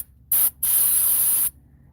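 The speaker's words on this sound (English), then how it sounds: "This QD electrical cleaner, and this cleans the contacts." Two hissing bursts of QD electrical contact cleaner sprayed onto a sensor connector's contacts, a short squirt followed by a longer steady spray, close and loud with no talking.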